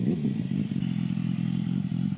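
A tuned 2023 BMW S1000RR superbike with a new engine, making about 240 hp, idles and revs with a steady, loud mechanical rumble close by, with no talk over it.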